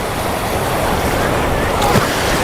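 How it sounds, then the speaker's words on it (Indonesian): Big ocean waves break and wash on a beach at Pandan-Carita, Anyer, a loud continuous roar of surf and wind buffeting the microphone with no break. "Tuh, ombaknya gede ya."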